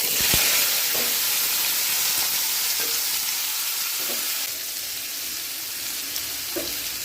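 Pumpkin and potato pieces hitting hot oil with ginger in a pan for a vegetarian curry, a loud, steady sizzle and hiss that eases slightly partway through, with faint stirring clinks.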